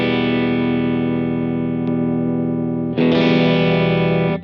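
Sustained, thick distorted electric guitar chord from a Stratocaster on its bridge pickup, plugged straight into a tube amp, ringing loud and steady, then a fresh strum around three seconds brightens and thickens the tone.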